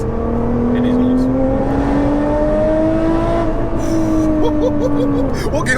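An 820 bhp Nissan GTR with hybrid turbos accelerates hard in third gear, its engine note rising and holding loudly from inside the cabin, with turbo whine and brief chirps near the end.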